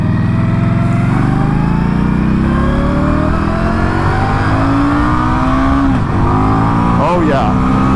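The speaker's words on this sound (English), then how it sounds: "I want to like fly off this bike giving her gas." Indian Scout Bobber motorcycle accelerating hard, engine roaring loud and close with rising pitch through the revs, then shifting, wind noise over it and a voice briefly audible.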